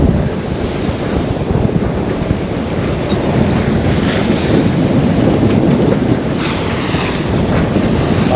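Sea swell churned up off a cape roars loud and steady from a boat at sea, mixed with heavy wind buffeting the microphone. There are no voices.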